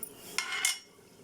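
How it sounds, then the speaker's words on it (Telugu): Dry fruits frying in a pan, heard as a quiet sizzle with two short bright scraping clinks of a utensil against the pan and no talk. "డ్రై ఫ్రూట్స్ ఫ్రై చేసుకుంటున్నాను"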